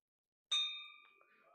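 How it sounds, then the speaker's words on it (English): A gong struck once at an installation ceremony for district officers, opening with a sharp metallic hit and then a bright, ringing tone that decays slowly across the rest of the moment, close and clear, with faint background noise after. "the gong"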